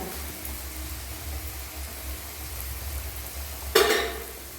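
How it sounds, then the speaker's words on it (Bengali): Ginger paste dropped into a hot pan of oil while cooking a fresh pond fish curry, a sudden loud sizzle bursting out of quiet kitchen ambience and then slowly fading. "এবার দিয়ে দিচ্ছি আমি বেটে রাখা আদাটা।"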